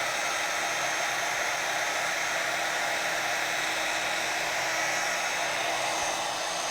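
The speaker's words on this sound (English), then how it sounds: "And then I will take my embossing tool," Embossing heat tool blowing hot air over gold embossing specks on a mixed media art journal page, a loud, steady, unbroken whoosh held close throughout.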